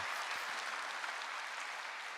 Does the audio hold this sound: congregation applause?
yes